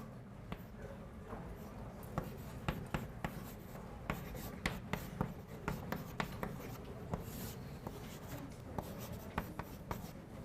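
Chalk or marker writing on a board during a university calculus lecture, a quiet run of scratchy strokes and sharp taps at an irregular pace, heard at a distance in a room.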